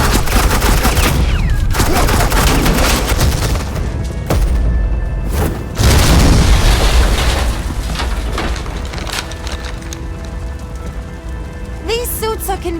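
Dense bursts of suppressing gunfire fill a scene in the Batman: The Enemy Within video game, with loud, continuous rattling volleys, brief pauses and voices faintly underneath.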